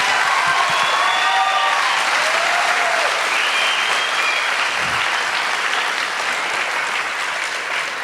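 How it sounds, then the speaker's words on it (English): A high school graduation audience applauding students, loud dense clapping that holds steady throughout, with a few whistles near the start and no talk. "let's get a round of applause for our students."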